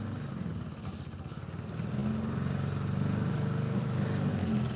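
Steady lawn mower engine droning close by throughout, a low continuous hum that swells slightly louder partway through, with no voices over it.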